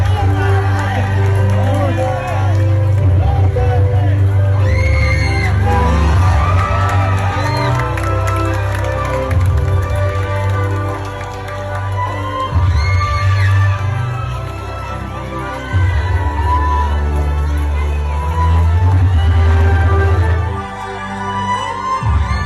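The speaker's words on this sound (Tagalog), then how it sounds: "Kitang-kita mo yung hiyawan ng taong bayan na hindi plastic." A large crowd at a political rally for Vice President Sara Duterte in Cotabato cheers, shouts and whoops loudly in repeated swelling waves over amplified sound from a PA system.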